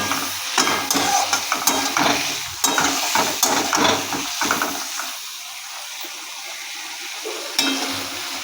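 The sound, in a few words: shrimp frying in oil, being stirred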